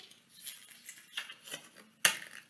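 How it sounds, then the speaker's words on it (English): Scissors snip through the top of a plastic bottle, giving a few light crunchy cuts followed by one sharper, louder snap near the end, close by with no talking. "I'm going to take the top part and the scissors, and we're just gonna cut the top off."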